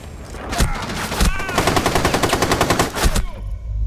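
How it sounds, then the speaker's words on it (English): Sustained bursts of heavy machine gun fire in Rainbow Six Siege, loud and close, with rapid rhythmic shots broken by brief pauses and a short tail at the end. "that guy's using this heavy machine gun"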